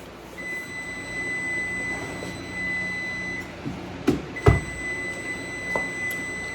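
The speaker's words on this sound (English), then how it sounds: "Y'all hear the buzzer?" A kitchen timer buzzer gives a steady, shrill electronic tone that stops briefly and then resumes, with a few clunks and knocks nearby.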